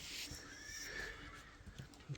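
A young foal brought from Russia neighs faintly in a few shrill whinnies, with soft hoof clops scattered underneath.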